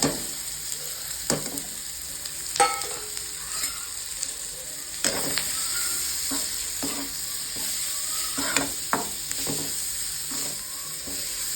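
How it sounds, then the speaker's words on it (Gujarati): Mustard seeds spluttering in hot oil, a steady sizzle broken by sharp irregular pops and crackles scattered throughout, close and moderately loud with no talking. "રાઈ છટવા લાગી છે"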